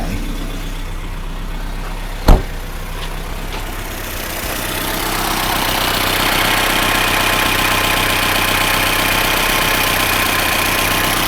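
A VW engine idles after a distributor repair, a steady mechanical hum with light ticking from slightly loose rocker arms, one sharp click early on and a broad hiss building behind the engine.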